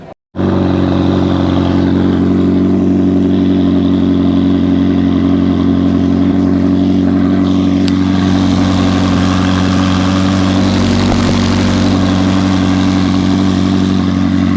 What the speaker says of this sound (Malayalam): അപ്പോൾ ഇതാണ് എക്സോസ്റ്റ് നോട്ട്.